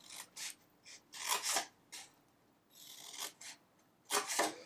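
Scissors snip and rasp through a cardboard Halloween treat box up to a scoring line, in a series of short, close cuts with brief pauses between them.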